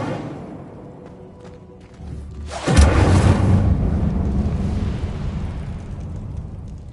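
An Incendio fire spell in Hogwarts Legacy bursts with a sudden loud whoosh and boom, then leaves a roaring, crackling rumble of flames that slowly fades.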